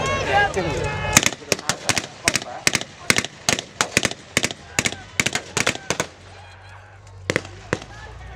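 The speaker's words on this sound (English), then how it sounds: "barrage there from the other side of the arena" At an outdoor World War II battle re-enactment between Germans and Americans, a loud barrage of blank gunfire cracks from across an arena in rapid, irregular bursts of sharp bangs that thin out toward the end, with voices under them.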